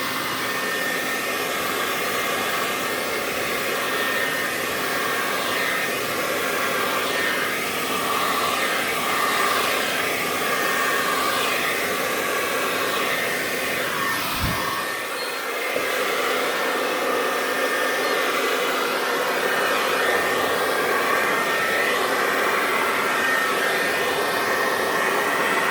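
A new blow-dryer runs on its cool blast setting, a loud, continuous airy roar that holds steady for the whole stretch with only a brief dip partway through.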